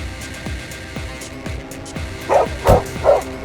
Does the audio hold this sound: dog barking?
yes